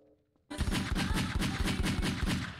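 Rapid automatic gunfire in Garry's Mod roleplay erupts after a short quiet lead-in, a loud, close, steady burst of evenly spaced shots that continues without pause to the end.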